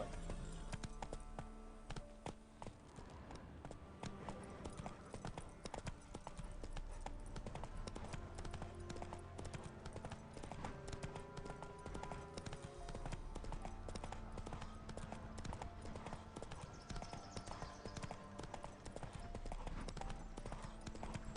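Quiet, steady clip-clop of a horse's hooves, Roach galloping in The Witcher 3, a fast continuous rhythm that runs unbroken throughout with only faint background sound.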